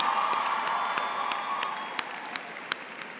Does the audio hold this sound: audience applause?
yes